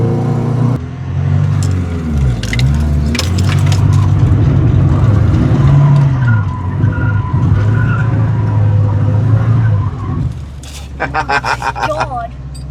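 A Volvo 240, revived after 13 years off the road, drives past with a steady engine and tyre roar that swells and fades, followed by a brief squeal near the end.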